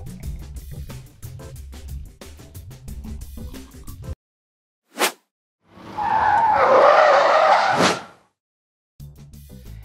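A 2023 BMW XM's tires squeal and skid loudly through a moose test swerve at about 77 km/h, a sustained screech rising and fading, after a quick whoosh and with music-like sound before and after.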